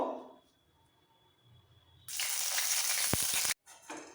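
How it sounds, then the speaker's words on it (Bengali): Two dried red chillies hit hot mustard oil and burst into a loud, steady sizzle lasting over a second, with a brief clatter before it and a quieter lead-in of kitchen sounds. "তেল ভালোভাবে গরম হয়ে গেছে এর মধ্যে দুটো শুকনো লঙ্কা ভেজে তুলে নেব"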